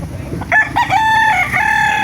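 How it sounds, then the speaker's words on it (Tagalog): Roosters crowing at a chicken market in Bocaue, Philippines, two or three overlapping crows close by over a busy background of clucking and bustle. "Mga manok sa Bukawi."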